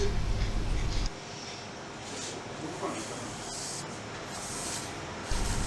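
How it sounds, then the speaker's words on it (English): A steady hiss of smoke detector test aerosol spray runs for several seconds, sprayed onto an oil mist detector head, close by, with a louder low hum before and after it. "we simulate the oil mist with smoke detector spray sprayed on the head's path"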